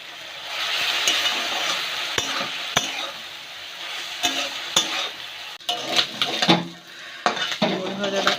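Cut potatoes fry for a prawn curry, a bright sizzle from the pan broken by a spatula scraping and clinking against the metal, loud and close, with a voice briefly heard.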